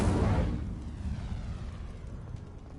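A fire spell cast in a Harry Potter video game bursts out as a loud whooshing roar that starts strong and slowly fades into a rumbling crackle, with no voices.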